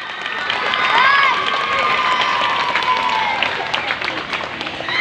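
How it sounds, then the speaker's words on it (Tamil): Applause and cheering from a school audience at a matriculation school's annual day celebration, with sustained clapping mixed with crowd noise and children's voices, a loud steady wash lasting several seconds. "ஒரு பெரிய கைத்தட்டு கொடுத்து அவங்கள பாராட்டலாம்"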